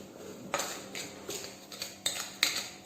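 Lemons being crushed with sugar in a bowl for lemonade, a series of irregular close knocks and clinks of a utensil against the container, moderately loud, with no talk.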